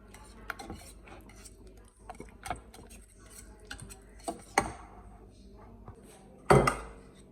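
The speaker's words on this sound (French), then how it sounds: "je rajoute mes 20 g de beurre et je continue à remuer pour le faire" A utensil stirs butter into hot strawberry tartlet filling off the heat, giving light scattered clinks and scrapes against the pot with a couple of louder knocks, close and alone.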